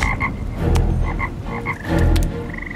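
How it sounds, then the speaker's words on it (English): Frogs croak loudly and close in a rapid, overlapping chorus of repeated rhythmic calls, heard as a dramatized sound effect for the plague of frogs covering Egypt in Exodus. "the frogs came up and covered the land of Egypt"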